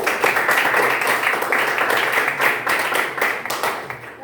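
Students in a madrasah classroom clap together during a group quiz, a dense, steady patter of many hands that carries on throughout with no pause.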